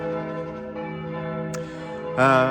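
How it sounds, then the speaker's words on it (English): Church bells ring with a sustained, humming resonance, and a louder strike swells near the end. "I hope you can hear me over all these church bells."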